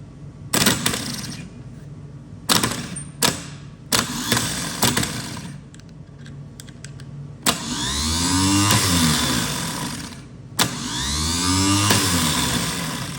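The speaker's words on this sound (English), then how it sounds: "So the old starter motor does run after 30 years." A 30-year-old engine's starter motor cranks in several bursts, first short clicks and whirs, then two longer loud grinding runs up close, with nobody speaking.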